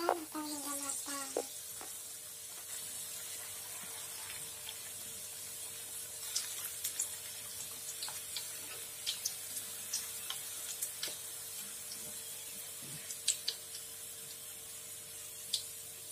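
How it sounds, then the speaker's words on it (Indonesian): Wonton dumplings frying in hot oil, prepared as a cheap school snack, give a steady, faint sizzle with scattered small crackles and pops throughout. "Panaskan minyak, setelah panas, goreng pangsitnya hingga kecoklatan atau hingga matang."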